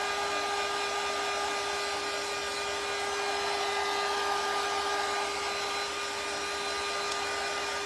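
A hair dryer blows steadily and loudly nonstop to dry black paint on a handmade nutcracker craft, with an even, unbroken whir and no voices.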